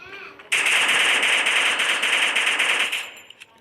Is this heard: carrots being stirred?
no